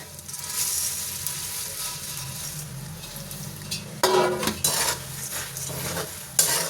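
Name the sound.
puffed rice stirred into hot oil tempering for chivda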